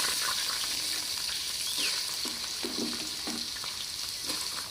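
Grated carrot frying in hot oil gives a steady, close hiss of sizzling, with soft bubbling and a few light pops and stirring noises, and no voices.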